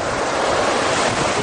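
Sea waves wash onto the shore in San Roque, Legazpi City, a loud, steady surf roar with wind buffeting the microphone.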